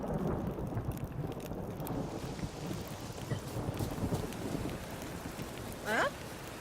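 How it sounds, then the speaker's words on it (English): Rain and rumbling thunder in the video game The Witcher 3, a steady wash of rainfall with low rolling rumbles, moderately quiet, with a brief higher chirp near the end. "Didn't look like rain."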